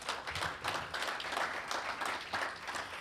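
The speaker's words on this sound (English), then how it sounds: "Can we give them a round of applause?" Audience applause at an evening panel event on protecting teachers, a fairly quiet, steady spatter of clapping from a modest crowd, heard alone without talk.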